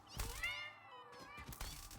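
Glitchy cat meows stand in for spider enemies in Satisfactory, two warbling, stretched meows sounding fairly close, separated by a short pause with faint background.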